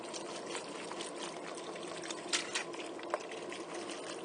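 Chicken broth poured into a soup pot, a brief trickling, splashing stream with a few small clinks, close and moderately loud.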